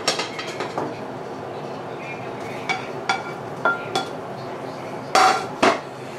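A spoon stirs sausage into softened onions in a pot of turtle gumbo, giving a series of sharp metallic clinks and scrapes, some single and some in quick clusters, over a quiet background.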